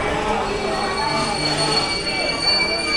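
Train 22640 Alappuzha-Chennai pulls into a platform and comes to a stop, a loud, steady rumble with high, sustained wheel squeal, close by and continuous throughout.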